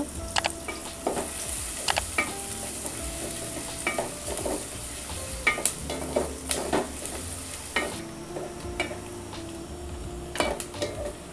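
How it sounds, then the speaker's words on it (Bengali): Sliced onions frying in oil until soft for chicken tehari, a continuous sizzle broken by frequent spoon scrapes and clinks against the pot, close and fairly loud with no talking. "পেঁয়াজটা আমি নরম হওয়া পর্যন্ত ভেজে নিব"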